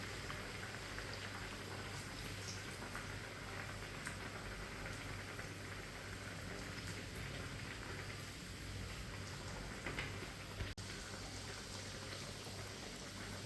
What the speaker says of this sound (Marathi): ब्रेड स्क्रबमध्ये आता हे घालून आपण आता तेलामध्ये सोडायचं आणि हा चांगला भाजून घ्यायचा